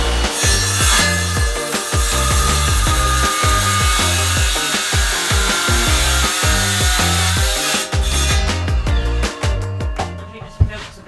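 A power saw cuts through a solid oak worktop, a loud rhythmic grinding rasp repeating in steady strokes before tailing off into sharper, scattered clicks near the end.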